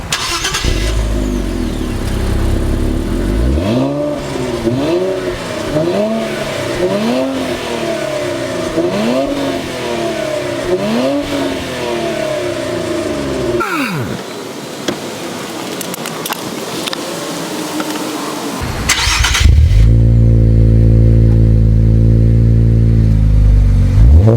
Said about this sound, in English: he does have an aftermarket exhaust, so it sounds a little bit better.